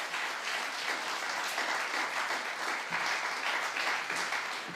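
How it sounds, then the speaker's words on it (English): A school music concert audience gives a round of applause for the composer, a steady, moderately distant patter of many hands that stays even and unbroken throughout with no voices on top. "give you another round of applause"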